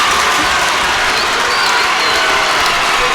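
Loud crowd at a basketball game erupting in sustained applause and cheering as the final buzzer nears, a dense continuous roar with no pause.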